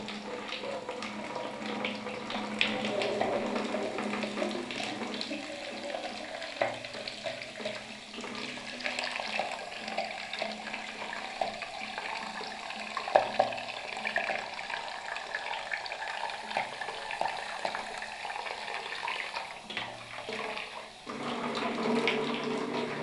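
Tap water from a Maynilad supply running continuously into a basin, a steady splashing stream with small fluctuations and a brief louder burst, heard alone with no talk.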